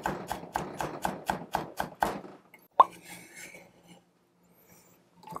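A knife finely chopping cheongyang chili pepper on a board: about nine quick, evenly spaced close chops, then a single knock and near silence.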